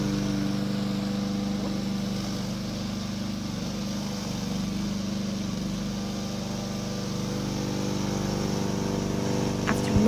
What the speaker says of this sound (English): let's start the engine for moving